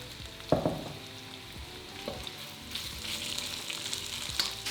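Sliced, coated beef frying in a wok for crispy orange beef, a continuous moderate sizzle with a few sharp clacks from a utensil near the start and middle, the crackle swelling toward the end.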